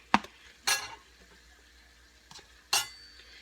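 Diced potatoes and small pieces of diced onion being dropped into a pan for a ground beef and potato casserole: several sharp clattering impacts and scrapes spaced out over a few seconds, close by, with quiet gaps between.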